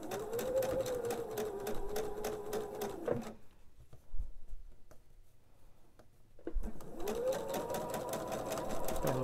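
Home sewing machine stitching a pieced quilt unit for a table runner, a steady close mechanical whir with rapid needle ticking, pausing for about three seconds mid-clip with soft handling clicks before running again.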